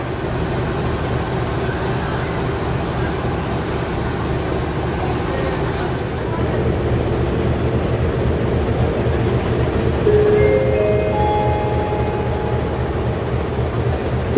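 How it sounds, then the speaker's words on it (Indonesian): Diesel locomotive of the Gunung Jati train idling at a station platform, a steady low rumbling drone that holds throughout with faint higher tones creeping in near the end. "Di ujung peron sebelah sini itu kebetulan ada lokomotifnya Gunung Jati, jadi mungkin agak berisik suara mesinnya"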